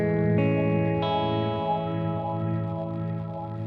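Guitar chords ring out through a Magnetic Abyss modulation effect pedal in Amplitube 5 software, a few strummed chords sustaining with a swirling, wavering tone, steady and fairly quiet with no voices.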